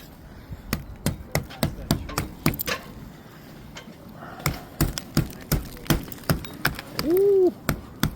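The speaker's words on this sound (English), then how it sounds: "Give me a hammer. I'm gonna bust it out." Sharp hammer blows break ice out of a copper gutter, a dozen or so impacts in an irregular rhythm, close and loud, with a brief whistling squeal near the end.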